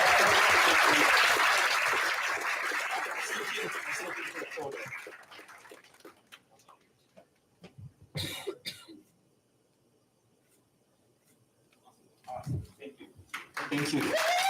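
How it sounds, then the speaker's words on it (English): Audience applause at an awards event, a dense wash of clapping that fades after about five seconds, followed by scattered coughs, a quieter gap, and a second short burst of clapping near the end. "Can we please give them a big round of applause?"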